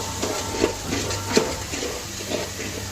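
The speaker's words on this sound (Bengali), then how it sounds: "আবারও কিছুক্ষণ নেড়ে চেড়ে নিলাম" Duck meat with ginger garlic paste fries in a pan with a steady, close sizzle, broken by soft scraping knocks as a spoon turns it over.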